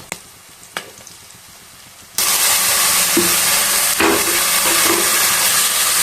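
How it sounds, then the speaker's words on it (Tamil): A couple of light knocks in a quiet kitchen give way to a sudden loud, steady sizzle as ginger garlic paste hits hot oil with onion and tomato, continuing strongly with occasional stirring clatter. "இப்போ இஞ்சி பூண்டு பேஸ்ட் போட்டுக்கலாம்."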